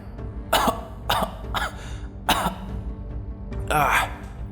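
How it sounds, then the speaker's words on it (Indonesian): Several sharp coughs in short bursts, fairly close, with uneven gaps between them, ending in a longer harsher cough. "Kulihat guruku terbatuk-batuk dan memegang dadanya."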